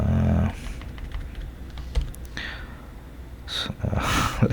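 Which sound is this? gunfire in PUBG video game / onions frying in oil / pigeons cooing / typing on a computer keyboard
typing on a computer keyboard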